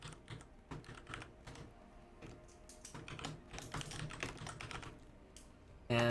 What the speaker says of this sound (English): my microphone is staring right at my keyboard so everyone can hear every little clack